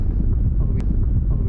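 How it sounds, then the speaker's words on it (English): Strong wind on high ground in Uddingston, Scotland, buffeting the microphone in low rumbling gusts, loud and continuous throughout. "It's really windy up here."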